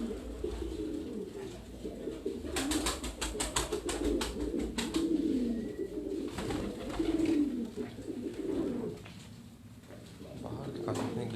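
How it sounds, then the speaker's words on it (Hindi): Pigeons cooing on a rooftop in Larkana, Sindh, low throaty coos repeating over steady ambient noise, with some flapping or clatter bursts and someone talking. "हमारे कबूतर परवर भाई इतना खो जाते हैं कबूतर देखने में।"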